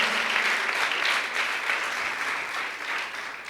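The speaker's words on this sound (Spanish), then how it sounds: "Dale fuerte esas palmas al Señor" Congregation at a church service clapping hands steadily, a dense continuous wash of palms at moderate loudness that holds throughout without pause.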